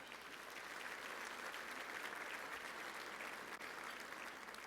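Audience at an awards ceremony applauds bronze sponsors, a steady, dense wash of many hands clapping throughout, fairly loud and even with no speech over it.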